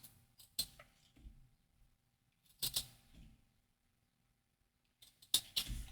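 Scissors snip a dangling knotted string on a handmade journal, giving three short, crisp cuts spaced a few seconds apart, quiet and close with near silence between them and no talking.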